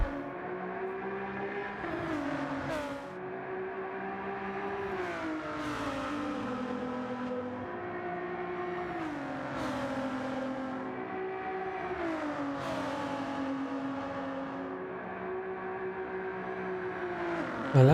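Race car engines of a Lamborghini and a Ford GT in Gran Turismo 7 at Watkins Glen drone steadily, rising through each gear and dropping sharply at repeated shifts, with no talk.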